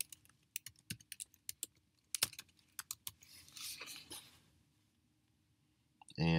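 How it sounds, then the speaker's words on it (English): Typing on a computer keyboard, a quiet series of separate clicking keystrokes at an uneven pace, heard close with no talk, followed by a brief louder noise at the end. "we'll just type in disclosure"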